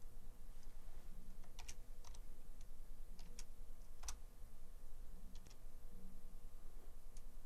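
Quiet clicks of a computer keyboard come in short, scattered bursts as a dashboard name is typed, over a steady background hiss.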